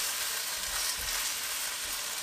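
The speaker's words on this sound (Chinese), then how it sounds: "让汤汁粘稠裹在食材上面，再撒点香油提亮增香，翻炒均匀就可以出锅装盘了" Shrimp sizzling and being stir-fried in a wok with a thickened sauce and a drizzle of sesame oil, a steady bright frying hiss with soft scraping stirs underneath, close and continuous, with no talking.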